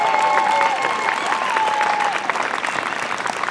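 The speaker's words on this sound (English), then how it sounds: "Please give him a big round of applause." Applause at a fiddle festival for a fiddle and mandolin player, a lively crowd clapping steadily with a few scattered cheers while a faint sustained tone lingers at the start.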